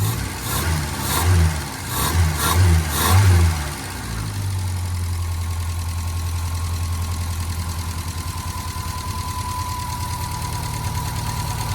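A 1952 Fordson E83W van engine fitted with electronic ignition, heard with a few loud revs before it settles into a steady, close, even idle with a low throbbing beat, no one talking.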